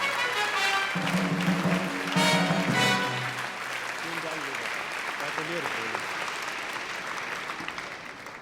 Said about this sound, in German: vielen Dank erstmal für den warmen Applaus und für die netten Worte.